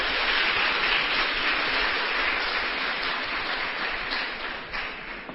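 A church congregation applauds during a sermon, a dense, steady wash of clapping that fills the whole stretch at even loudness and thins slightly toward the end, with no voices standing out.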